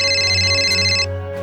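A phone ringtone sounds during a call, a steady electronic tone with rich harmonics that plays loudly and alone for about a second before cutting off.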